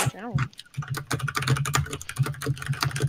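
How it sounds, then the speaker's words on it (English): Rapid clattering keystrokes on a computer keyboard during a typing test, close and fairly loud, with a voice talking briefly over the start. "I'm doing a typing test all while drunk,"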